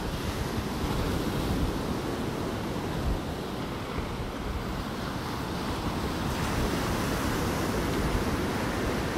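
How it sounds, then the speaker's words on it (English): Ocean surf rolls steadily onto the beach at Delnor-Wiggins on a partly cloudy morning, a loud continuous wash of breaking waves mixed with wind buffeting the microphone, with no voices. "Listen to those waves."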